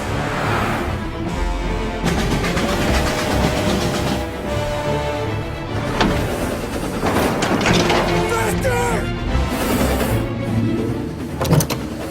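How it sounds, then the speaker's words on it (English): A train rushes past during a car chase in a cutscene from the 2002 Mafia game, a loud continuous rumble with rising and falling tones over engine noise, sustained for about twelve seconds. "He's trying to beat the train!"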